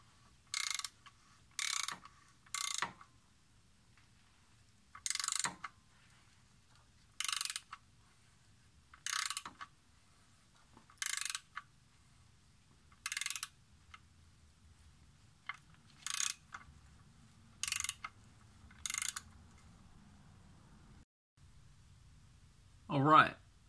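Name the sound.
tap and ratchet cutting threads into a Miata oil pan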